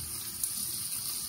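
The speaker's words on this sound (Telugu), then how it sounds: "ఫిష్ మనం ఫ్రై చేసినప్పుడు వాటర్ ఊరుతూ ఉంటుంది కాబట్టి దాని నుంచి వస్తుంది అనమాట." Boneless fish frying in hot oil, the moisture in the fish spitting out as a steady, even sizzle that carries on without a break through the short stretch, with no voices.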